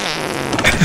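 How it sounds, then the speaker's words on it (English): A short, loud, buzzy cartoon fart from the video game BattleBlock Theater sputters for under a second, growing rougher toward the end. "I fart myself to death before your acid gets me."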